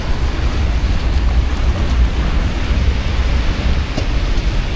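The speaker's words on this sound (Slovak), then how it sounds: "Prší naozaj dosť slušne, no." Heavy rain pours down outdoors in Korea, a loud, dense, continuous wash of noise with no pauses and no voices.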